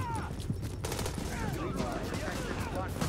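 Gunfire in Tom Clancy's The Division, with dense shots and bursts running continuously through the scene, loud and close, mixed with other game noise.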